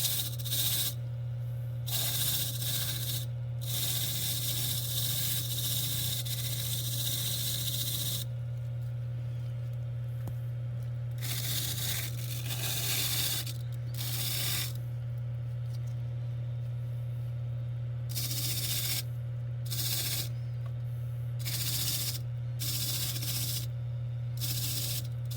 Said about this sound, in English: You don't want to wire wheel against the claws either.